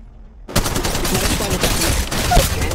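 Rapid automatic gunfire bursts loudly and close in Apex Legends Mobile, a dense fusillade of shots kicking in abruptly after a quiet moment and continuing without pause.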